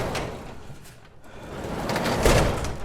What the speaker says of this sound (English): we should be able to close this garage door now